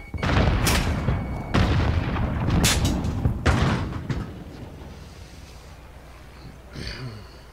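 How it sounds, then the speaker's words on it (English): Explosions from an enemy precision airstrike in a video game, several heavy booming blasts in quick succession over the first four seconds, loud and rumbling, then trailing off into quieter background noise with a faint late thud. "Enemy precision airstrike."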